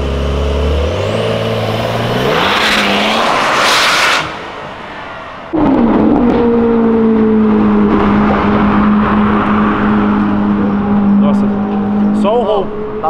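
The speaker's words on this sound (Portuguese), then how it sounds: "É um dos roncos mais bonitos que eu já vi na vida" A sports car accelerates hard along a city avenue, its engine climbing through loud rising gears, a brief lull, then another roaring high-pitched pull passing close by, with people talking over it.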